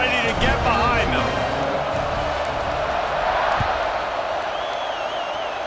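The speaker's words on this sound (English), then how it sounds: "this crowd now ready to get behind them" Crowd noise in the EA Sports College Football 26 video game, a broad steady roar of cheering that stays loud throughout, with a commentator talking over it.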